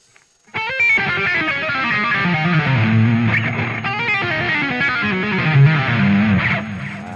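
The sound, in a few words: electric guitar through MVave Black Box distortion effect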